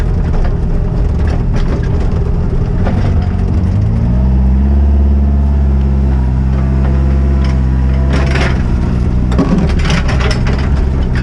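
A tractor engine runs loud and close while digging a drainage ditch on wasteland, a steady low drone that rises in pitch midway as the engine revs, with clanking mechanical knocks on top.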